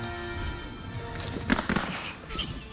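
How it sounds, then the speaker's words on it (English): Volley of musket fire in the mechanized-revolution strategy game Bonaparte, a burst of sharp crackling shots around the middle of the clip over a busy game soundscape, with faint talk underneath. "Yeah, fire your muskets, dudes."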